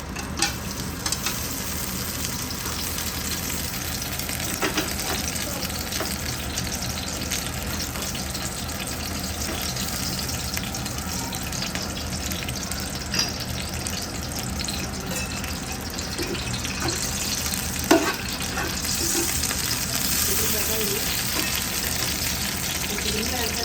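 Whole spices crackle and sizzle in hot oil and ghee for chicken biryani, a dense and steady frying hiss heard close up with occasional stirring clinks, and no one speaks.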